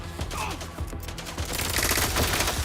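Rapid automatic gunfire from the player's hard-recoiling weapon in the video game Mind's Eye rattles in a dense, loud, continuous burst, close up and filling the whole moment.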